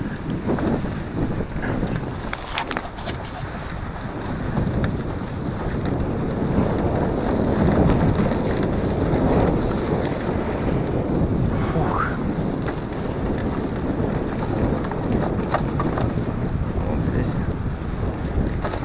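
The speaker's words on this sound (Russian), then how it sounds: "такой бриз надувает, как с Волги" Wind gusts buffet the microphone in a continuous, rough rumble, building and easing over time with no talking; a sea breeze in Da Nang, Vietnam.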